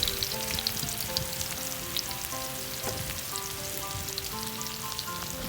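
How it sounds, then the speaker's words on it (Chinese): Garlic, 30 grams, fries in leftover chicken fat for Thai fried chicken rice, a steady close sizzle with fine crackles and small pops, no one talking. "接下来剩下的鸡油直接放入30克的大蒜"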